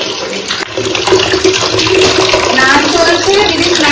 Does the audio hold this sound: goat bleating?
no